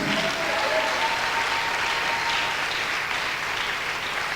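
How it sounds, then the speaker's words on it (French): A church congregation applauds Jesus during a French-language sermon, with steady, dense clapping that fills the room at an even level from start to finish. "On acclame bien Jésus."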